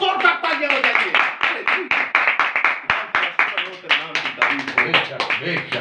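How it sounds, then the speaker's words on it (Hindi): A congregation at a religious gathering claps loudly in a quick, rhythmic beat, with a voice carrying over the clapping throughout. "अपने लिए जोरदार तालियां बजाइए।"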